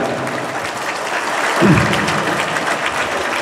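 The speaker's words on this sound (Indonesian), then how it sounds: "mari kita berikan tepuk tangan yang luar biasa untuk pondok pesantren kita" Audience applause for a pondok pesantren (Islamic boarding school) at a talk, a steady wash of clapping from a room of people that swells briefly near the middle.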